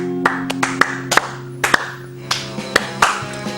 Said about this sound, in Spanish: ¡Aplaudan, carajo! ¡Aplaudan!